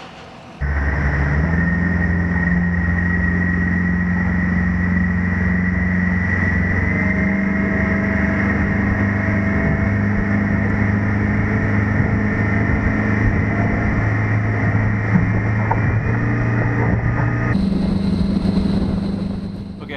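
A boat powered by a Mercury outboard motor runs at speed, its engine a steady loud drone with a constant tonal whine, shifting pitch near the end as the throttle changes, with wind and water rush throughout.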